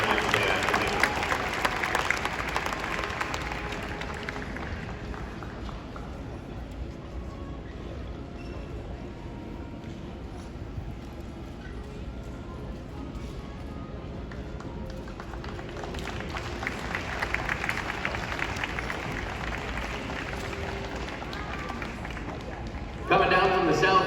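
A crowd claps at the Royal Agricultural Winter Fair's pairs carriage driving event, with an announcer talking over it; the applause swells at the start, eases off, then rises again near the end.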